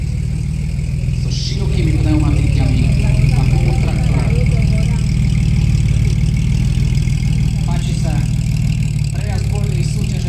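A vintage Tatra car idles at the start of a FIVA classic car rally in Slovakia, a steady low engine rumble running throughout beneath someone talking over a loudspeaker-style commentary.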